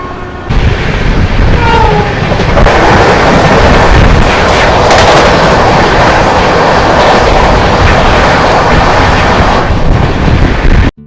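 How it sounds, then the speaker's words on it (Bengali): Malda–Howrah Intercity Express rushing past on the next track, a loud continuous roar of wheels and coaches with rapid rhythmic clatter, heard from inside a moving train, ending abruptly. "Overtake Malda Howrah intercity express."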